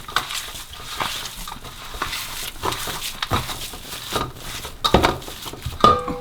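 A spoon stirs chilies, garam masala, salt, ginger and fresh coriander together in a bowl, making soft irregular scraping and tapping sounds up close, with quiet gaps between strokes.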